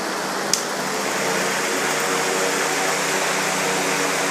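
An electric fan running at fast speed gives a steady, loud broadband whoosh of moving air that stays even throughout, with one brief click near the start.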